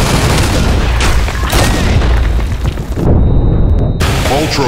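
Grenade explosions in the online shooter BlackShot, loud booming blasts with bursts of gunfire and game voice callouts, one blast followed by a brief silence before the noise resumes.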